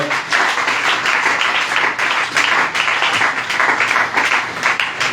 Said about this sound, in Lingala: Osanase, acclame plus fort pour la gloire du Seigneur